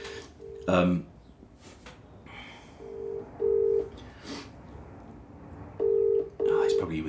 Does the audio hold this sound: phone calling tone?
yes